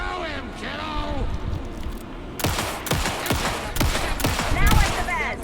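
Rapid bursts of gunfire in the video game Alan Wake 2, loud sharp shots firing in quick clusters under voices talking, growing denser toward the end.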